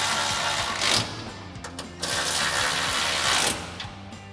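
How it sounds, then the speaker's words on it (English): A 13mm socket ratchet tightens the exhaust clamp bolts on a Jeep Gladiator JT, sending out a close run of quick clicking pawl strokes that come in short bursts. "we can take our 13mm socket and tighten both of these bolts up"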